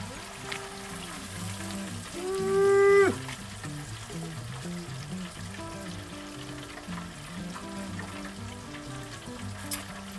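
A prime rib deep frying in hot oil, a low steady sizzle and bubbling at a fair distance, with a brief louder swell and some faint clinks over the top.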